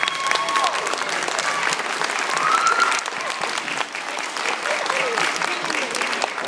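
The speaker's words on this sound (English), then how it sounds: "Can we give these young ladies a round of applause?" An audience at a debate event claps steadily, a dense, even wash of many hands that stays loud and continuous throughout without pause.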